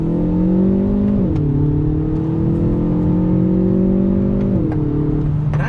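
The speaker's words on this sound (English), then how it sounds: "So first gear, pulling out on throttle." A Hyundai Veloster Turbo pulls away under throttle in first gear, its engine drone loud and close from inside the car, pitch rising steadily, dipping briefly, then climbing again, with no talking.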